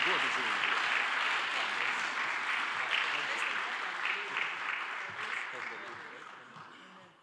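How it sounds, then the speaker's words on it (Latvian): Steady audience applause fills a hall at a volunteer-of-the-year award ceremony, a dense, continuous clapping that slowly fades toward the end. "Aplaus."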